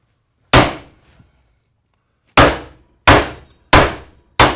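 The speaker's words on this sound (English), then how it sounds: "whenever you're using a hammer and a hatchet like this" A hammer strikes the back of a hatchet to bevel a block of wood, landing five sharp, loud knocks, the first standing alone and the last four coming in a quick, steady run.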